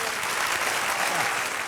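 A church congregation applauds steadily during a Spanish-language sermon, with a dense, even wash of clapping that is fairly loud and continuous throughout.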